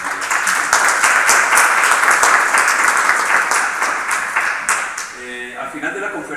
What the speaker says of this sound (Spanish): recibamos un aplauso a Héctor